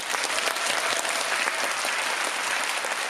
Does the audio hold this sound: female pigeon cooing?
no